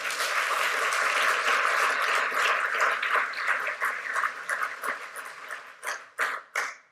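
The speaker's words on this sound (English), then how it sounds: "A round of applause for Glyn." Audience applause welcoming a guest speaker at a sports science talk, a dense steady clapping that fills the room, then thins into scattered separate claps over the last seconds.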